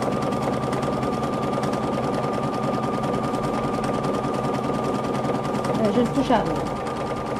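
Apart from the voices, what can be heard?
Husqvarna Topaz 30 sewing machine stitching a buttonhole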